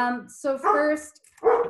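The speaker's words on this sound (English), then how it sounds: "That's my dog barking now." A dog barks several times in short bursts, close and fairly loud, while a person speaks briefly between the barks.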